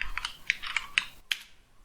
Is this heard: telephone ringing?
no